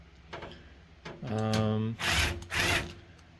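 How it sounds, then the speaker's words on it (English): Screws being removed from the back of a Dell Dimension E510 desktop's power supply, with two loud, sustained whirring bursts of a powered screwdriver near the mic after some quieter handling noise. "We can remove that by unscrewing the 4 screws in the back here."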